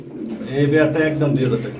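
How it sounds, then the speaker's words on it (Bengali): A pair of large racer pigeons coo in low, throaty rolling calls, close by and fairly loud, repeating steadily over the short stretch. "একদম বিগ সাইজের মধ্যে রেসার কবুতর জোড়া"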